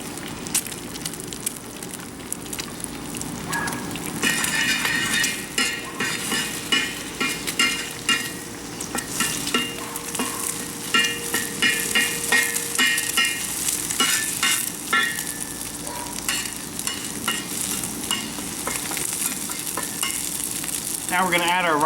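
Egg and garden vegetables stir-frying in a large outdoor wok over a flame: a loud, continuous sizzle with scraping and tossing of the food throughout, ending in a brief metallic scrape.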